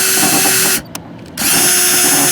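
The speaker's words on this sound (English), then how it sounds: "More or less all I'm doing is drilling pilot holes at this point." Power drill boring pilot holes into an RV roof, a loud steady whine that stops briefly for about half a second and then starts again, with no talking.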